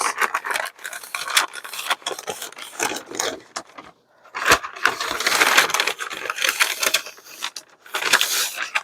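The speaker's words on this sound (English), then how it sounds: "She gets her handy dandy bone folder. She straightens it out." A paper bag being straightened and creased with a bone folder, giving close, repeated dry rubbing and scraping strokes with brief pauses, one clear gap near the middle, and no talking.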